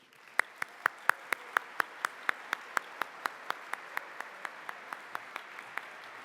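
A single person clapping at a steady, even rhythm, about twenty sharp claps, moderately close, with no crowd noise around them.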